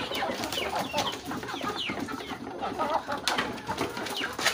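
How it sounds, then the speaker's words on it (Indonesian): Several Bangkok chickens cluck and squawk close by in a busy, overlapping chorus while waiting to be fed, with wing flutters and scratching noises mixed in. "Ini ayam Bangkok."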